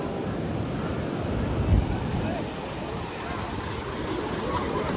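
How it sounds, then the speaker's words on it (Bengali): Big ocean waves on the Kerala coast wash and roar steadily with gusty wind buffeting the microphone, a broad rushing surge rising and falling throughout. "কত বড় বড় ঢেউ!"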